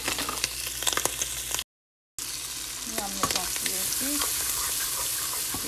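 A sausage sizzles in a hot frying pan, a steady crackle with soft scraping and stirring and a short drop to silence partway, no talk over it.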